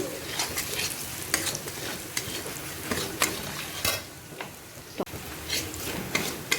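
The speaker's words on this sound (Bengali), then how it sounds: "পেঁয়াজটা ভালো করে লাল করে ভাজলাম আমি" Onions frying in a pan with cumin, turmeric, chilli and salt as a spoon stirs them, giving a soft, steady sizzle broken by repeated scraping strokes, close by with no talking.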